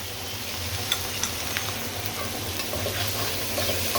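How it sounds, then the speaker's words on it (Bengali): Food frying in a home kitchen pan, a steady soft sizzle with a few faint clinks of stirring, close and continuous with no voices. "আবার নেড়ে চেড়ে দেব।"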